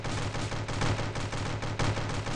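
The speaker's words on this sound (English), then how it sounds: "LMG, heavy machine gun is quite good" Heavy machine gun (LMG) in Stick Warfare Blood Strike fires a loud, continuous burst of rapid shots for a couple of seconds, with short dips in the stream and no voices over it.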